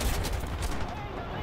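Rapid machine gun fire rattles out in a World War II aircraft combat game, a dense, loud burst of overlapping shots lasting about a second and a half.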